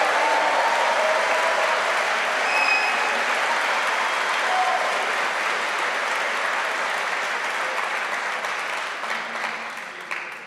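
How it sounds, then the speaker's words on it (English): A Liverpool University graduation audience gives a loud, sustained round of applause, dense clapping filling the hall for about ten seconds before gradually thinning out. "give me your loudest possible round of applause"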